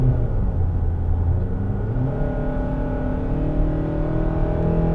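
A 2023 Hyundai Santa Fe engine pulls steadily under acceleration, with a loud, close, continuous rumble and rising whir as the 8-speed automatic works through smooth shifts.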